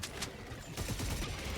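Sentry guns and a flak cannon firing in Helldivers 2 against terminids: a dense stream of rapid, rumbling automatic shots and booms blending into a continuous barrage, fairly quiet and distant, with no talk.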